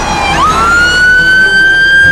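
An ambulance siren rises in pitch and then holds a loud, steady tone, close by and dominant over low traffic rumble, with no one speaking.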